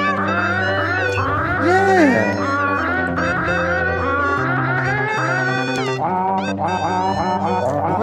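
Sampled cat meows from a novelty recording, repeated mewing pitched into a melody over continuous loud backing music.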